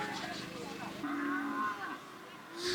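Cattle at an agricultural show featuring Belgian Blue competitions give a drawn-out moo, moderately distant and faint against crowd murmur and a busy outdoor show ground.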